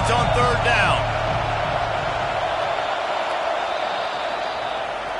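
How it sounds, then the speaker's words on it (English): Large stadium crowd at a Georgia vs Notre Dame football game roaring behind the defense on third down, a broad sustained roar that holds steady, with a commentator's voice briefly over the start. "Decibels rising as the crowd gets behind this defense on 3rd down."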